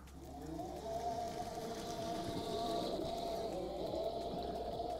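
A Mammotion Luba 2 AWD robot lawn mower drives at full speed, giving off a steady, continuous motor whine with a rushing undertone that holds level for the whole stretch.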